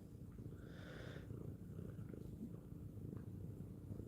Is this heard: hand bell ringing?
no